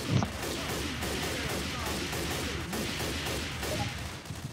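Rapid gunfire from a Valve video game rattles in dense, continuous bursts of shots for several seconds, loud and steady with no pauses.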